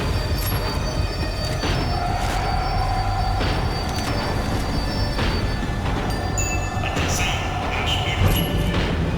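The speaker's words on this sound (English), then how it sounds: "The tram was slowing down, and I'd only just gotten on board." A tram in the video game Max Payne 3 slowing down, a continuous loud rumble of rail wheels with metallic squeals and clanks, rattling steadily for the whole stretch with faint voices underneath.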